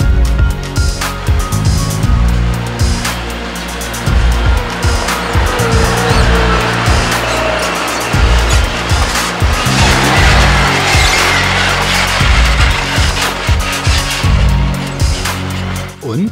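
Maverick two-cylinder 130 hp off-road vehicle at an off-road show, driving hard on a track with loud engine surges, repeated gear-change dips and tire squeal, close up throughout.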